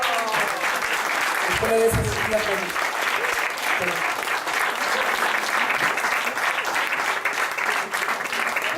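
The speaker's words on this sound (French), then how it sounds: "Et on peut l'applaudir bien." Audience applause at a magic show after a card trick: sustained, dense clapping from a crowd across the whole stretch, with a performer's voice briefly speaking over it near the start.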